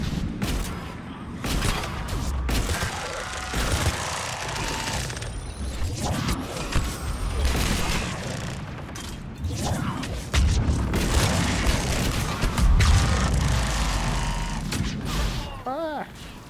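Grenade explosions and gunfire in Mass Effect 3 multiplayer combat: repeated loud booms and crashes mixed with bursts of shooting, with a voice talking over the action.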